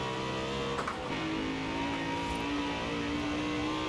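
Game engine of a BMW M3 GTS in Forza Horizon 4, a steady, loud sustained drone that opens up slightly as the car accelerates, with no talk over it.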